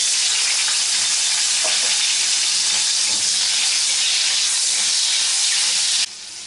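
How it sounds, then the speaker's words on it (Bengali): Chopped tomatoes hit hot oil with nigella seeds for an eggplant and pabda fish curry, producing a loud, close, continuous frying hiss that drops abruptly in level near the end, with no talking. "কালো জিরে দিয়ে দেওয়ার পর এবার দিয়ে দিচ্ছি টমেটো কুচি।"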